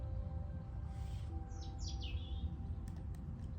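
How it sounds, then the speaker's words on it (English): A bird sings outdoors by the water, giving a few quick chirping phrases that are clear but not close, over steady low rumbling background noise. "Bird's very happy, which is nice to hear."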